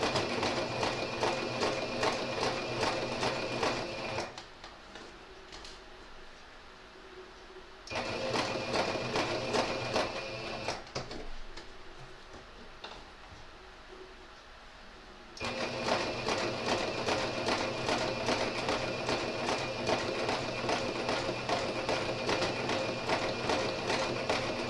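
A sewing machine stitches along a seam line on a fabric panel for a fairy castle height chart, running in steady rapid bursts with two quieter pauses between, close and alone.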